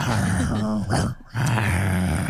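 A person imitates a dog's growl, producing a low, rough, close vocal rumble in two sustained stretches broken by a short pause.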